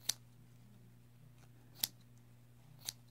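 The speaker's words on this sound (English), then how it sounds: "I'm going to show you just how to cut it now" Scissors snip through cotton fabric while a rag flower is trimmed, three short crisp cuts spaced about a second apart over a low steady hum, close and fairly quiet.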